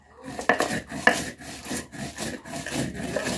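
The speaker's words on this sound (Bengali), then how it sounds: "আমি শিলে বেটে নিচ্ছি" Fried spices being ground on a flat stone slab (shil) with a stone roller, giving repeated rough, rasping strokes in a steady back-and-forth rhythm with a few sharper scrapes, close and fairly loud, with no talking.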